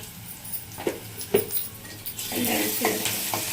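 Onions fry in a pan with ginger and garlic for bendakaya pulusu, a soft sizzle under scattered scraping and clinking as a spoon stirs, close and fairly quiet.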